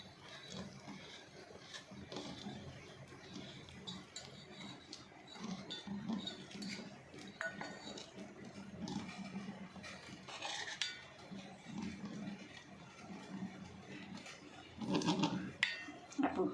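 Spoon stirring dhokla batter in a bowl, a soft continuous scraping with light clinks against the bowl and busier bursts near the end.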